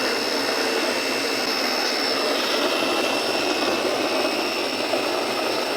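A homemade turbojet engine burning kerosene roars at full running speed, a steady, loud, broadband jet whoosh with a high whine, unbroken from start to finish.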